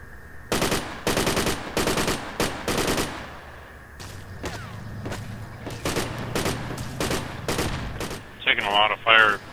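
Bursts of automatic gunfire in the video game Project Reality, several rapid volleys early on, then scattered single shots and a distant rumble, ending in a sharper burst.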